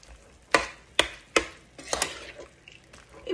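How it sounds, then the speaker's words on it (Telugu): A spoon stirs bottle gourd curry in a pan just after milk has been poured in, giving several close, sharp scraping strokes in an uneven rhythm, with quieter wet movement between them and no voices. "పాల్ వేసుకుని బాగా కలుపుకోవాలండి"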